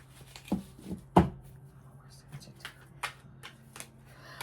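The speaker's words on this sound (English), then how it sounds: "these cards aren't that hard to shuffle" Tarot cards being shuffled by hand, giving a few crisp riffling bursts and soft flicks spread irregularly across the moment, close up, with a faint background hum and no clear talk.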